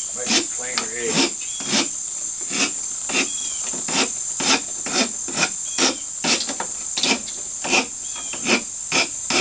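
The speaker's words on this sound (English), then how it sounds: "just take your rasp and push it out on it" Repeated rasp strokes filing the edge of a bamboo tube, a steady rhythm of about two dozen short scraping bursts, close and fairly loud, with a faint high whine running underneath.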